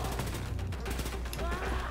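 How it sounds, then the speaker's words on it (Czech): Rapid gunfire crackles through a firefight in the shooter game Wolfenstein 2: The New Colossus, a dense, continuous burst of shots heard at moderate level throughout. "tady fakt někdo střílí"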